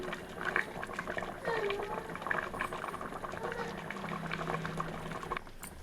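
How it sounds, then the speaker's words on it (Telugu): Fish curry with raw mango simmers and boils in a pot, a steady close bubbling and popping that runs throughout with no talk. "ఇప్పుడు గ్రేవీ దగ్గర పడేంత వరకు ఉడికించండి మామిడికాయ వేసాం కాబట్టి ఇంకొక పది పదిహేను నిమిషాలు ఉడికించుకోండి"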